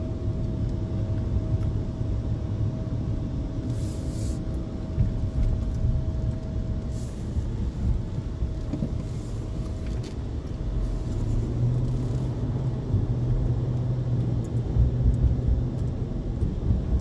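Car accelerating on a test drive, heard from inside as a low, steady engine rumble with road noise, fairly quiet and continuous, no voices.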